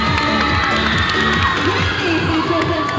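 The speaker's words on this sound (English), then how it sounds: "Please welcome them with a round of applause." A school crowd of teachers and students at a high school Pi Day event cheers loudly for a Grade 10 section, a dense continuous roar of shouting voices with scattered clapping, close and steady for the whole stretch.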